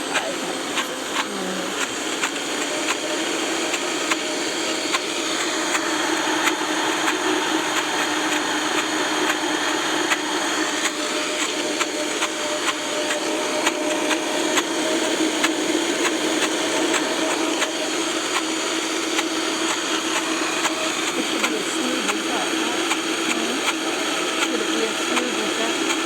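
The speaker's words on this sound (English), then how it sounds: "Turn the motor. Yeah, use the motor." Kitchen appliance motor running on high while kale wraps, chips and lemonade are prepared, a steady loud whirring drone held for the whole stretch, with people talking faintly underneath.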